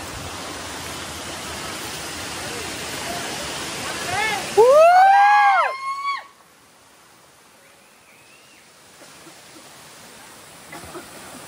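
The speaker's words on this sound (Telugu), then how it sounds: "వాటర్ ఫాల్ అయితే నిజంగా సూపర్ అయితే ఉంది" Paalakondalu waterfall in Kadapa gives a steady, broadband rush of falling water for several seconds, followed by a short burst of rising, sweeping tones before the sound drops to a quiet background.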